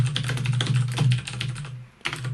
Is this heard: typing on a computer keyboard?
yes